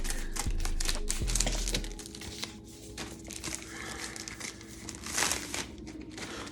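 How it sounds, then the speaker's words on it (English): Cardboard book package being cut open along the top, crinkling and scraping of packaging with irregular tearing bursts, close and fairly loud, no talking. "Let me cut a top so I don't mess up the book."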